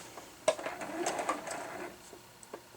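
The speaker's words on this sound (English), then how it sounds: "I'm going to sew 1/4 inch and then feed them through" A sewing machine stitches pieces of quilt fabric together in a short, quiet run of mechanical clatter, with faint rhythmic ticks and a few louder clicks.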